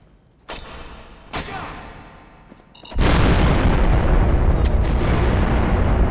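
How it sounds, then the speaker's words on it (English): Two short booms go off early, then a large explosion in Fallout 4 erupts about three seconds in and holds as a loud, sustained roar to the end. "Something else exploded."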